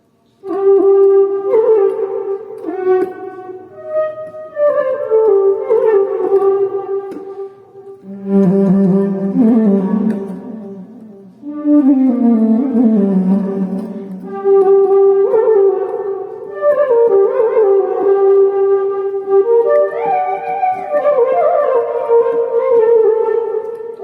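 A synthesized flute melody from a Yamaha PSR keyboard glides over a soft keyboard backing in a mellow R&B style, with phrases rising and falling and no voices.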